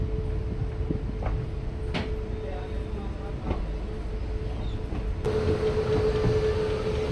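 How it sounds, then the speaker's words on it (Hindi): Superfast express train pulling out of Kalka railway station, with steady low rumble of the moving coach, a few sharp clanks and knocks, and a louder rise near the end as the train gathers pace; faint voices in the background. "सो फाइनली अपनी ट्रेन जो है वो डिपार्ट हो चली है अभी कालका रेलवे स्टेशन से"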